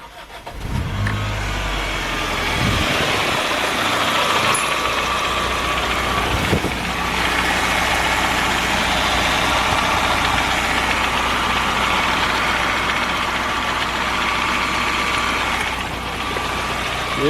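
A Toyota Starlet engine, freshly filled with oil, cranks briefly and catches, then settles into a steady, loud idle with a rough, slightly knocking rumble that holds for the rest of the stretch.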